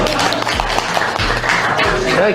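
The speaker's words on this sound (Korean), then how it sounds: "박수 한번 주십시오." Audience applause fills a Korean public meeting with taxi drivers, a dense steady wash of clapping heard continuously with voices mixed in beneath it.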